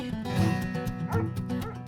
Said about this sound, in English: But the dogs drive Malaya Griffin barking mad.